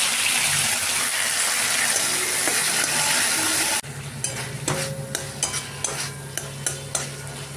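A masala of ground ginger, green chili, tomato and salt sizzles loudly in a pan for a few seconds, then quiets to a lower fry broken by rhythmic scraping strokes of a spatula.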